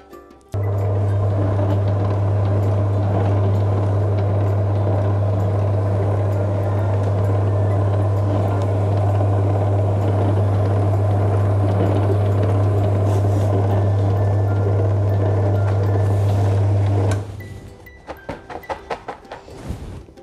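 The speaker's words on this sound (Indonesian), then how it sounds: "sekarang kita coba yang mesinnya Getra ya, dengan tipe DHH 180C" A Getra DHH 180C noodle making machine running with a loud, steady low electric hum and mechanical whirr for about seventeen seconds, then switching off, followed by a few light knocks and handling sounds.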